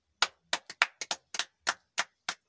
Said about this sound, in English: Just clap for the Lord.